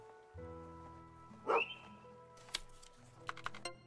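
Single bark from a dog in the game Potion Permit, sharp and close over looping background music, followed by a few light clicks and taps from the game.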